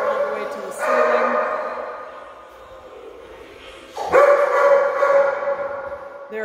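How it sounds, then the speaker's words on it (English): Puppies in an indoor kennel building with cement block walls, giving two bursts of echoing yelps and howling barks separated by a quieter pause. "These are puppies out of my stud dog, Nico."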